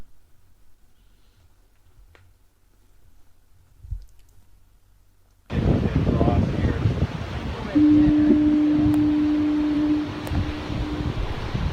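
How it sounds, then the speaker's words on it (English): After a quiet stretch, waves and wind rush in on the rocky southern shore of Ucluelet, Vancouver Island, and a long, low foghorn note sounds steadily in the distance for several seconds. "in the distance you can hear the foghorn warning ships of the impending danger of the rocks"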